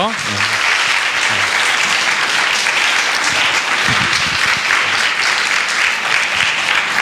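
Congregation applauding in a church after a sermon, loud sustained clapping filling the room for the whole stretch, with a few voices underneath.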